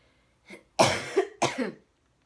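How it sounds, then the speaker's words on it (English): Two or three harsh coughs in quick succession, close and loud, separated by brief silences. "This cough, you guys."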